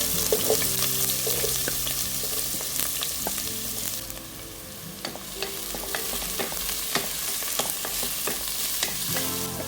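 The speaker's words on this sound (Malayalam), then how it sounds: "കടുക് പൊട്ടി വരുന്നുണ്ടേ നമുക്ക് ഉള്ളി അരിഞ്ഞ് വെച്ചിരിക്കുന്നത് അങ്ങോട്ട് ഇട്ട് കൊടുക്കാം" Onions sizzle and crackle steadily in hot oil with mustard seeds, with scattered pops and occasional stirring scrapes, close and fairly loud with no talking.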